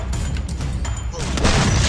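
Grenade explosion in the shooting game Free Fire, a sharp boom followed by crashing bursts and rumbling debris, loud and close, with an excited player voice over the game sound.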